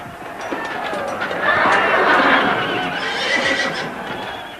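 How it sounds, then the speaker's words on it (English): Horses neigh and squeal loudly amid a chaotic, swelling din, with rattling and clattering mixed in throughout. "squealing of those horses,"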